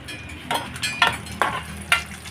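Dry fruits fry in a couple of spoons of ghee in a pan, a steady close sizzle broken by four or five sharp scraping stirs, with no talking.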